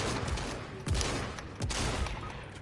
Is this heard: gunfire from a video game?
yes